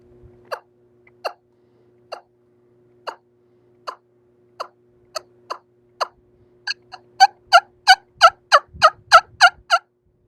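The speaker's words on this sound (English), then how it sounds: "It's very good for clucking and yelping at low volumes" A wing bone wild turkey call gives soft plain clucks spaced about a second apart, then speeds into a run of louder, evenly paced yelps, high pitched and close with no talking.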